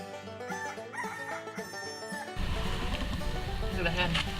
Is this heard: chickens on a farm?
yes